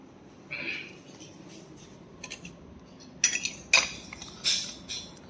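Spoons and plates clink while food is served onto plates, a few sharp metallic taps and rattles close by, spaced out over a few seconds amid quiet room noise.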